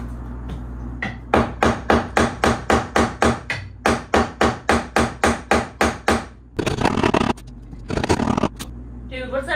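A hammer drives nails while framing a back door: about twenty rapid, evenly spaced sharp blows in a steady run, followed by a few seconds of scraping and shuffling.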